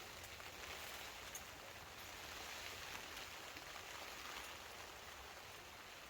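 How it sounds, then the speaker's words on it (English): Heavy winter rain pouring steadily while wild camping in Scotland, a dense continuous wash of drops with no pauses, heard alone at a moderate level. "Right, it's pouring down. See outside? Absolutely pouring down."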